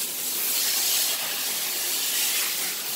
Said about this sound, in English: we're rinsing off his shampoo